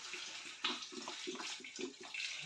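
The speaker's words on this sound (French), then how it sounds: "Je mets un peu d'eau." Water pours steadily into a cooking pot holding a stock cube, a close, continuous splashing stream with no talking.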